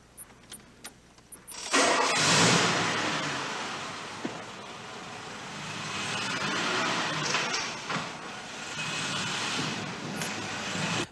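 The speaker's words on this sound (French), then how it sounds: "le jeune homme qui démarre bruyamment dans une magnifique alpine rouge" After a few faint clicks, a red Alpine sports car engine cranks and roars to life, loud and throaty, then settles into a rough, revving idle.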